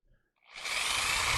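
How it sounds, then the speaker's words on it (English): An electric drill bores a hole into the bottom of a plastic Pepsi bottle, starting after a brief quiet moment and rising into a loud, steady, close whine that runs to the end. "We'll drill our hole in the bottom."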